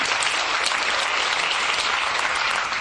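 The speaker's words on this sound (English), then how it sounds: "You go and give them a clap." An audience at an interview event breaks into dense, sustained applause, loud and close, with many hands clapping steadily throughout and a faint voice underneath.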